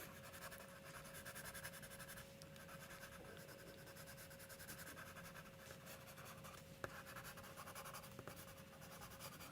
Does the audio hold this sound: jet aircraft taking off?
no